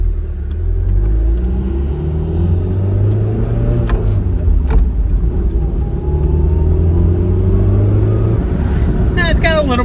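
A Toyota MR2 Turbo cruises at 50 mph, heard from inside the cabin as a steady, fairly loud engine drone and road rumble with slowly shifting tones and someone talking over it.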